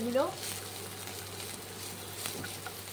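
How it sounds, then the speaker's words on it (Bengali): Cashew nuts roasting in a pan with onion, garlic, coriander leaves and green chillies, a soft, steady sizzle throughout with a faint stir near the start and a low hum beneath. "এবার দিচ্ছি মুঠো কাজু বাদাম, এর সাথে দিয়ে দিচ্ছি। একটু রোস্ট করে নেবো।"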